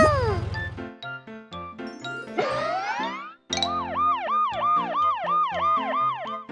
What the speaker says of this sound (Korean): 빨간 소방차가 사이렌을 울리며 출동했어요